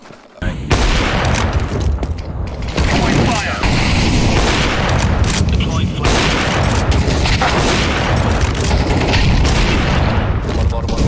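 Loud, dense bursts of automatic gunfire from Counter-Strike 2 rattle in rapid volleys with booming shots, nearly continuous after a brief quiet start, while a player talks over the action.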